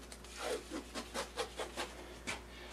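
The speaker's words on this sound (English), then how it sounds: "So I'm just using straight blue painter's tape here. And I'm going to mask off the fretboard." Blue painter's tape being pressed and rubbed down to mask a guitar fretboard, a quiet series of about eight short rubbing strokes in an uneven rhythm, close by and with no talking.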